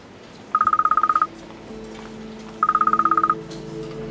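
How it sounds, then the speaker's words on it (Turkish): A mobile phone left behind rings with a trilling electronic ringtone, two bursts of rapid pulsed tones separated by a pause, clear and fairly close over a low background hum. "Erhan Bey telefonunu unutmuş, çalıyor"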